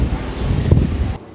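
Strong wind blowing at the Lampulo fishing harbour during extreme weather, a loud continuous rushing roar buffeting the microphone, briefly dropping off at the end.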